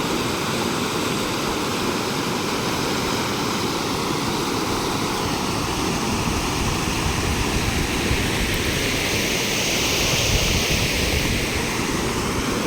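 The Luni river in flood rushes fast in a loud, steady, unbroken roar of churning water, close by with some wind buffeting, no talking.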